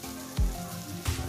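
Spicy snack frying in oil in a pan with salt and dried red chillies, soft steady sizzle with a couple of brief louder crackles, close up and without talk.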